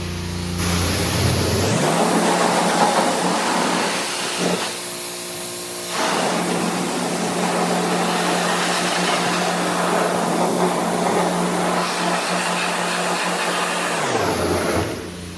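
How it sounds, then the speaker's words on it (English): A pressure washer sprays old, crusty aluminum wheels in a loud, steady hiss with a motor hum beneath it, briefly cutting out midway before starting up again and running on. "Stuff came off pretty good with pressure washer."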